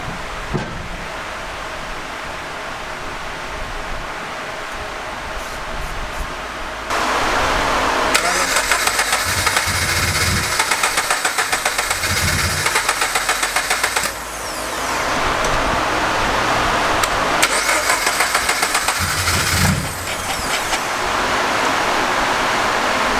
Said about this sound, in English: still having some trouble trying to start the car.